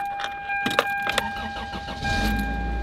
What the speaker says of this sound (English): Just open your door, go inside, and start up your car.